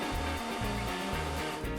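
A hair dryer blows steadily on hair, a continuous close whir with a pulsing low hum and no talking over it.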